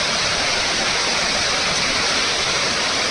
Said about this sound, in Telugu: ఈ ఫాల్ వాటర్ ఫాల్స్ చాలా ఫేమస్